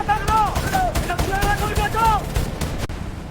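Rapid bursts of gunfire crack in a loud, dense cluster, nearly continuous over a few seconds, with a voice speaking over the shots.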